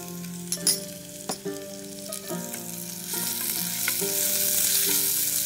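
Small chicken pieces sizzle and fry in a pan, with a steady hiss broken by repeated clattering strokes of a utensil stirring against the pan.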